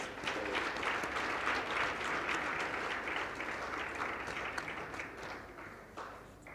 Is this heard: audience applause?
yes